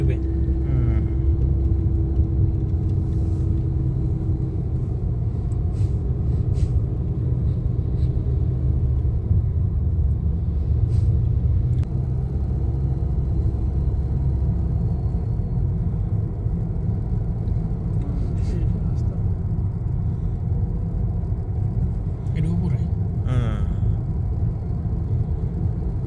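A car engine drones steadily while climbing the mountain road up Jebel Hafeet, a constant low rumble heard from inside the vehicle with people talking over it.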